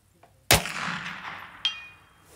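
A single sharp rifle shot cracks nearby, followed a beat later by the faint metallic ring of the bullet striking a steel center plate target 200 yards away.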